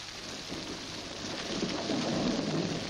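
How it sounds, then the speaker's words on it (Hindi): Steady rain falls in a broad, even hiss that swells slightly louder partway through, with a soft patter of drops in the low range and no voices. "बारिश हो रही है"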